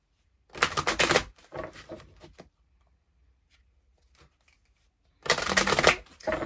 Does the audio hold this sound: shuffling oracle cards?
yes